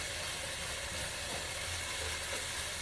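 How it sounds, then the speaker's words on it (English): Sausages sizzling in a paella pan for a seafood paella, a quiet, steady frying hiss that continues evenly without breaks. "I just want to heat up my sausages"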